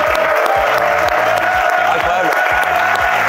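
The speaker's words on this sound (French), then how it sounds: "je vous applaudis tous" Recorded applause and cheering greet 86 quiz participants at the start of a level 1 to 100 quiz challenge. It is loud and steady for about three seconds and blends with a bright, sustained musical tone.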